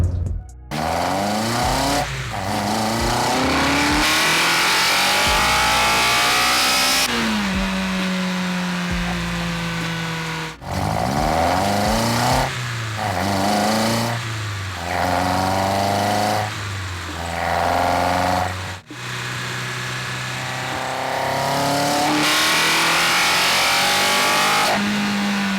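Cammed 280 bhp Honda S2000 with a K24/K20 swap and individual throttle bodies screaming on track, loud and close, with repeated rising revs through the gears, brief lifts between pulls and a sharp throttle blip near the middle.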